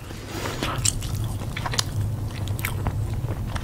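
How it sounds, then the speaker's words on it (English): Crisp bites and chewing of a McDonald's McChicken sandwich with crispy, crunchy chicken, lettuce and mayo, close to the mic, with irregular crunches and soft wet mastication and no talking. "Let's go on to the McChicken."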